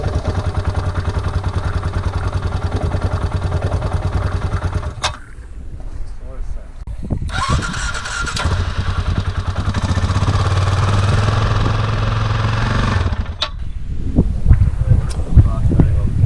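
A KTM motorcycle engine runs roughly, loud and close, droning unevenly and cutting out briefly partway through before catching again with sputters and knocks.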